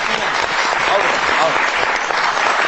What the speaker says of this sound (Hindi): इनके लिए एक जोरदार तालियां होनी